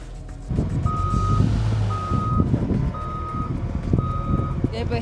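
Reversing beeps from a front loader sound in steady, evenly spaced tones over a rumbling diesel engine nearby, with a few voices in the background.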